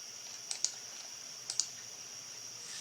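Keys on a computer keyboard click in two quick pairs about a second apart, faint and close, over a steady high-pitched electronic whine.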